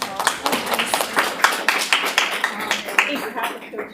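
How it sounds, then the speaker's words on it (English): Listeners at a technical talk on stateful containers clap at its close, a brisk patter of distinct, closely spaced claps from a modest crowd that thins toward the end. "we give her a big applause"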